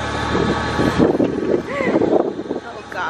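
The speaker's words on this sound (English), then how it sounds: "I'm listening to the wind." Gusty wind rushes past the microphone outdoors, rising and falling in loud buffets, with voices talking over it.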